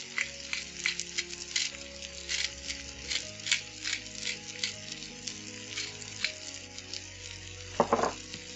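Baby bella mushrooms with garlic salt and black pepper sizzle softly in a pan, with scattered crackles and pops over a low hiss and a brief louder stir near the end.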